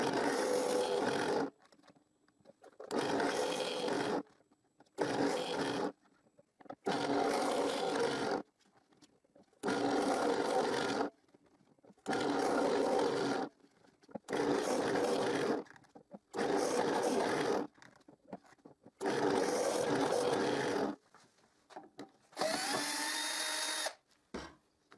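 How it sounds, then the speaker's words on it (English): A drill press grinds through the edges of a circle of wooden hangers in repeated bursts of a few seconds each, separated by brief silences, loud and close. "with my vertical drill press table, I drill one hole right in each line in the edge of the circle"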